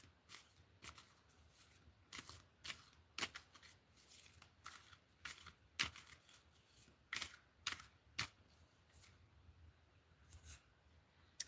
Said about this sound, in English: I'm shuffling right in front of you